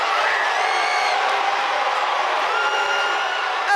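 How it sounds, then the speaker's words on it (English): A large audience roars and cheers without pause at the Ghana's Most Beautiful 2024 grand finale, a loud, dense wall of shouting and whooping that holds steady throughout. "you can see that the crowd is charged up"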